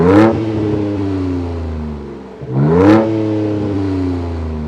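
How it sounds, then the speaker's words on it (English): The valved exhaust of a 2023 Ford Ranger Raptor pickup truck rumbles steadily, flaring into two loud revs a few seconds apart, each settling back into a low throaty idle. "You can hear them rumbling away, and they sound spectacular"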